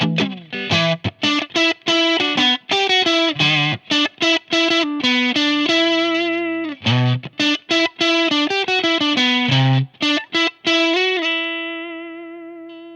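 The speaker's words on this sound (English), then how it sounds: "It goes into fuzz, but kind of almost bypasses distortion." A loud, heavily distorted electric guitar played through a StewMac Hotcake overdrive pedal set into fuzz plays choppy chords and notes in bursts, ending on a long sustained fuzzy note that rings out.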